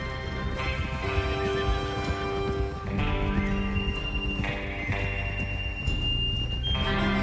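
Horse riding in the video game Red Dead Redemption 2, with steady hoofbeats and a horse whinny beneath a prominent orchestral game score, no talk.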